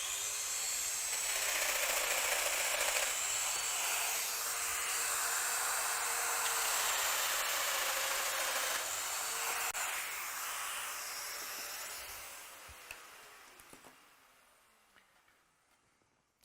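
A Festool router cuts a dowel hole in wood with a loud, steady, hissing roar that holds for about twelve seconds before the motor winds down and fades away.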